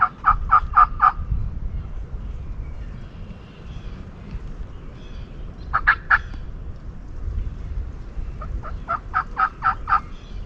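Wild turkey gobblers gobble outdoors during a Nebraska turkey hunt: a burst of rapid rattling gobbles, a shorter call midway, then another long burst, at moderate distance over quiet outdoor ambience.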